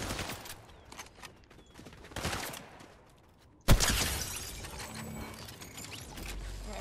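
Fortnite gunfire: scattered faint shots and mechanical clicks in a quiet stretch, then a sudden loud blast followed by a busier spell of firing and game noise.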